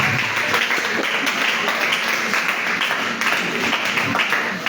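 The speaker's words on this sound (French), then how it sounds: "Acclamons le Seigneur à ce moment." A congregation at a Sunday church service applauds steadily, a dense continuous wash of many hands clapping that fills the room with no pause.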